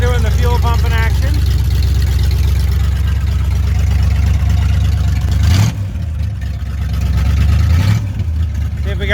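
A small-block Chevy engine runs with a loud, steady rumble close by, dipping briefly twice as the throttle shifts, while a voice talks over it.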